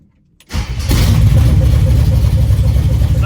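A Chevy C10 pickup's 400 small-block V8 cranks and fires after half a second of silence, then settles into a loud, lumpy idle through a dual 3-inch mandrel-bent exhaust, close and steady with no talking.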